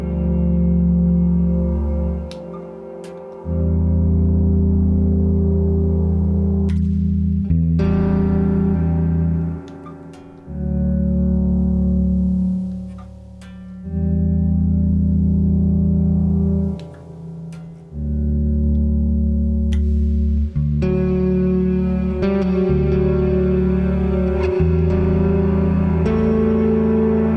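Low bass guitar notes swell in slowly and sustain, washed in delay and reverb from effects pedals set to maximum, rising and fading in long waves with occasional clicks between them.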